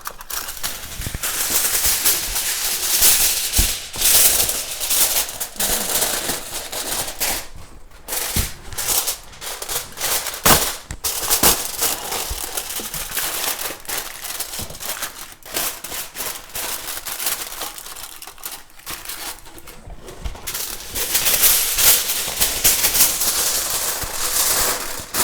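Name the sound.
aluminium foil crinkling while covering a turkey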